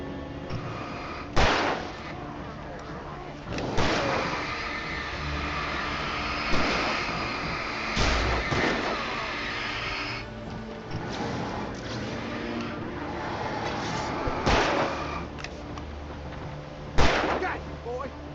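Gunfire in the video game Alan Wake Remastered, with several sharp loud shots spaced irregularly over steady game background noise, and people talking now and then between them.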